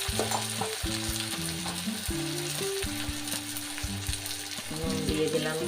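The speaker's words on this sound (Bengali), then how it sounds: "পেঁয়াজটা আমি লাল করে একটু ভেজে নিলাম, এইবার আমি ঢেলে দেবো টমেটো।" Onions browned in a pan, with tomatoes tipped in, give a steady frying sizzle while tonal background music plays throughout and masks much of it.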